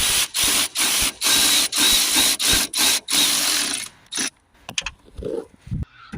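A ratchet tightens the wiper arm bolt on a Citroën C4, in rapid bursts of close, loud clicking with short pauses, ending in scattered lighter knocks and handling sounds.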